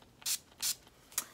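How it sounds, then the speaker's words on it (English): NYX primer spray misted onto a makeup brush, three short close bursts of hissing spray, the last one briefer. "I just spray my brush with the NYX primer spray"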